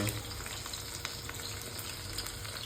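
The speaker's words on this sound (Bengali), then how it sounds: "চিকেনগুলো একটু ভেজে নিচ্ছি" Chicken pieces fry in a pan for chili chicken, giving a steady, close hiss and crackle of hot oil with faint stirring taps, no voices over it.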